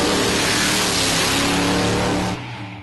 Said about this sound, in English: Real nice controlled burnout for Kevin